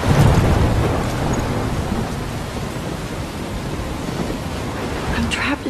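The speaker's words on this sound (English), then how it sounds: "I'm trapped in a storm?" A thunderstorm in the video game Life Is Strange gives a loud, continuous wash of heavy rain with deep thunder rumbling underneath, steady and close throughout, with no talking.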